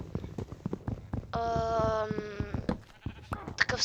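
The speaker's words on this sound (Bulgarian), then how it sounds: "Много рядко се намират розовите овце." Pink sheep bleating in Minecraft, one drawn-out nasal bleat standing clear between short game noises and clicks.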